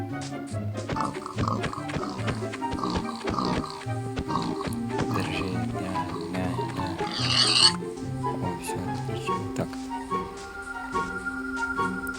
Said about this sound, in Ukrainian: О, свинка.